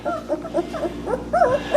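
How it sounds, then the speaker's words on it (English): Two-week-old puppies whimper and yip in a quick series of short, high, rising cries, close and fairly loud, with no talking. "These are Stella's puppies. And today is Tuesday, so they are 2 weeks old"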